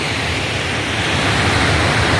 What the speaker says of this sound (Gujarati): 2 ડેમનું ઓગનનું પાણી આવે છે બહાર